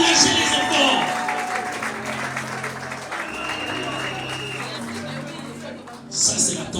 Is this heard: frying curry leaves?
no